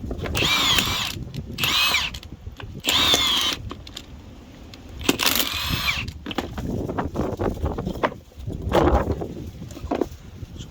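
Milwaukee 2767 high-torque impact driving a spiral log-splitting bit into old decking, several loud bursts of whirring and hammering separated by short pauses, close and without talk.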